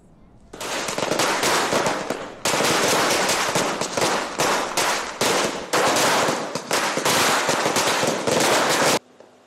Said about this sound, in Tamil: திருநெல்வேலியில் சிறுவர்கள் பட்டாசு வெடித்து தீபாவளியை உற்சாகமாக கொண்டாடினர்.